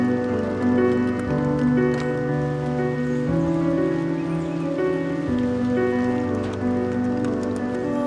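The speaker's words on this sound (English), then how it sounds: "Have you ever stopped and listened to the rain?" Steady rain falls in a dense, even hiss, heard alone beneath a sustained layered musical drone.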